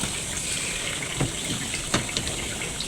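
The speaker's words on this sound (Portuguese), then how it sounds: "eu encho aquela bacia ali de água" Water runs steadily into a basin at home, a continuous close gush and splash filling the whole short stretch with no voices.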